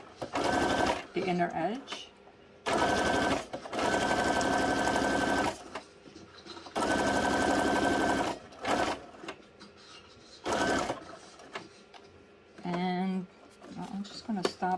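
A sewing machine stitches journal cards made from punch negatives, running in several loud bursts of a few seconds each with pauses between, while someone talks briefly in the gaps.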